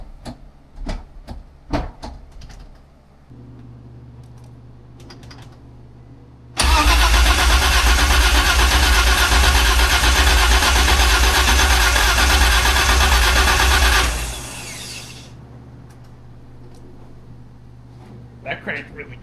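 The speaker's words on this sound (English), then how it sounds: "That cranked really good." A V12 engine swapped into a BMW E30 starts after sitting for over a year, cranking briefly and then catching into a loud, steady idle that cuts off after several seconds, with voices talking before and after.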